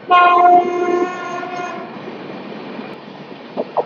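A train horn blares loudly at the start, then fades as a Kolkata local train rumbles past Dankuni Junction with rolling track noise.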